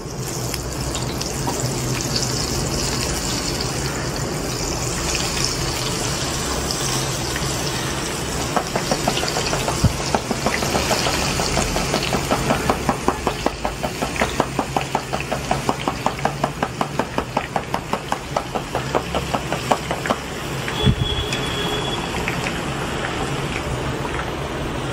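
Boondi batter poured bit by bit into hot oil sizzles and crackles steadily for Diwali motichoor laddu, with a faint bubbling hiss throughout.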